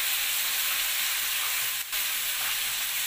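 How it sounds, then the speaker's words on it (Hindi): Cabbage fries in a pan, a dense hissing sizzle that runs loud and unbroken through the whole stretch, with one brief dip near the end and no voices. "तो चलिए अभी मैं इसको फ्राई कर लेती हूँ।"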